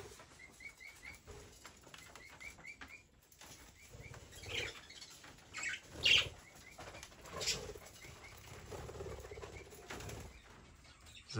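Small parrots in an aviary while fresh food and water are handed out: repeated wing flapping and fluttering with scattered soft chirps, moderately close, with a few louder bursts of flight and no talking.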